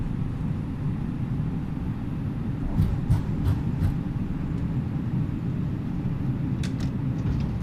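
An Airbus A330neo rolls out after landing at Faro in Microsoft Flight Simulator, thrust reversers engaged, a heavy continuous engine roar and rumble with a few faint clicks layered over it.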